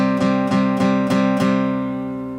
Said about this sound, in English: you can strum 8th notes and get 6 strums in per measure